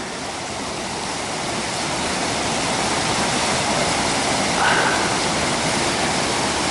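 A waterfall on the Collins Trail in Savage Gulf gives off a steady, broad rushing roar that swells slightly and stays constant, heard from close by with no voices.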